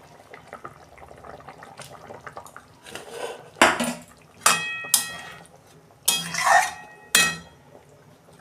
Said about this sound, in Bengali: এই যে আমি এবার বেগুনগুলো দিয়ে দিচ্ছি।